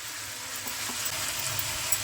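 Carrot halwa cooked in ghee sizzles steadily in a pan while being stirred, giving a continuous close hiss with faint soft scraping underneath.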